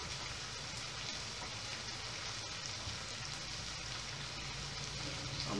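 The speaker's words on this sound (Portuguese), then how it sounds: "Faz um refogadinho." Kale stems sautéing in margarine or butter in a pan, a steady, soft continuous sizzle and crackle heard close with no talking.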